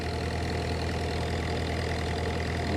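A soil-crushing tiller machine runs steadily in a watermelon field freshly planted under plastic mulch, its engine droning loud and continuous with a constant mechanical rumble, no talk over it.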